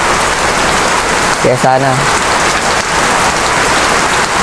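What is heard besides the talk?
heavy rain during Typhoon Paeng in Bicol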